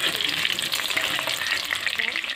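Potatoes fry in hot oil, seasoned with salt and turmeric, making a steady, dense sizzle that crackles on without pause from start to finish. It stays moderately loud and close throughout, and no one speaks over it.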